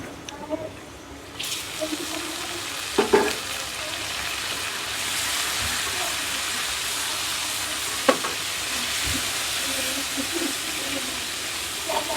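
Shrimp and bottle gourd greens being stirred in a pan, a steady broad sizzle with a few sharp scraping knocks of the spoon against the pan, moderately close.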